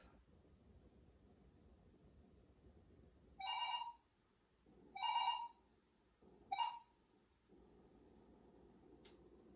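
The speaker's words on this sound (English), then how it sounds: "Sounds like someone was looking for a phone." A telephone bell rings three times in short, loud bursts over a faint background hiss, with quiet gaps between the rings.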